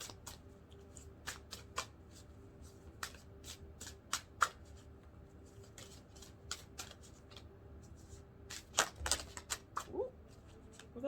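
Oracle cards are shuffled by hand in a quiet room, a steady run of soft riffling flicks and sharp slaps over eleven seconds, with louder bursts near the end and no talking.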